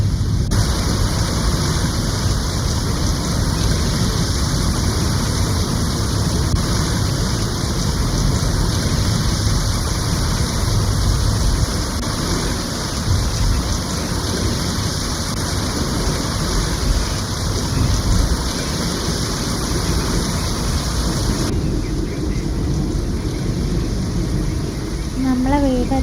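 Heavy rain pours steadily in Monterrey during a storm, a dense continuous hiss filling the whole stretch without a break, while low rumbling sits underneath.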